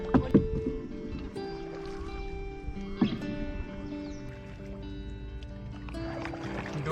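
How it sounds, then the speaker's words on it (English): A boat is paddled across Lake Bunyonyi in Uganda, the single paddle swishing and splashing in soft strokes under a steady background hum, with a couple of sharper knocks. "This is more like kayaking actually"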